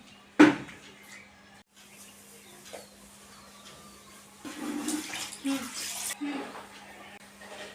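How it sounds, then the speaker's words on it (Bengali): Vegetables are washed in water, with splashing and running water that build in the second half, alongside a sharp knock near the start and some background activity. "তরকারিগুলো ভালো করে সুন্দর করে ধুয়ে নিব"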